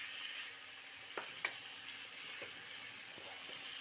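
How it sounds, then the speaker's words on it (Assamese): Hot water goes into a pan of frying chili, onion, garlic and ginger paste, raising a steady bright sizzle and hiss broken by a couple of sharp crackles and pops. "গৰম পানী দিছে ইয়াতে"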